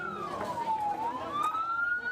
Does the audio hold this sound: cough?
no